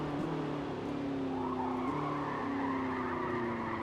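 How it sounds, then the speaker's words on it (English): A lightweight Porsche spins out in Forza Motorsport's C Class racing, tires squealing in a long, wavering skid over a steady engine roar, loud and close with no talk. "I'm spinning out because I'm getting used to the light weight of the car."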